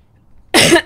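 A single sharp, loud cough bursts out close up after a near-silent start, with the start of a second cough at the very end.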